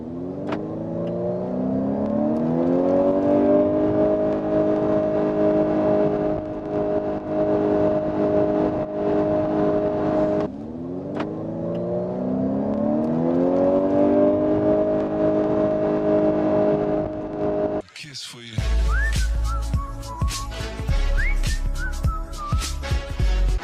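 A Honda CR-V hybrid with two electric motors accelerates hard twice, each run a loud, rising whine from near the cabin, before a different busier sound takes over at the end.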